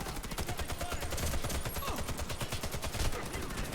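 Rapid bursts of ZX84 machine gun fire in the Warface shooter game, loud and continuous short volleys of shots crackling one after another in a steady rhythm.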